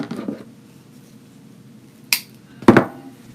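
Scissors trim ribbon from a bow on a ruffle beach wreath: two quick, crisp snips about half a second apart after a short quiet stretch, close and fairly soft.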